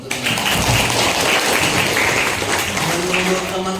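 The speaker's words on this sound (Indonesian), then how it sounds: "Oke, tepuk tangan dong untuk ini." Classroom applause from students, a dense steady clatter of clapping that fills the whole stretch at a fairly loud, even level, with some voices mixed in.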